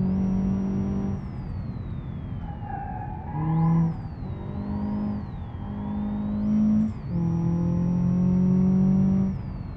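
A Subaru car engine in BeamNG.drive revs up and eases off repeatedly, its tone climbing and dropping in several pulls while a thin high whine runs above it, loud and close, with no speech.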